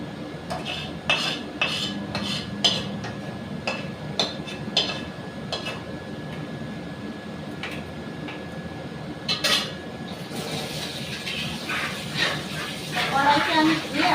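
Cooked potol posto, a potato-and-poppy-seed dish, is scraped from a pan onto a plate with repeated metallic clinks and scrapes. A voice talks and a dog barks briefly in the background.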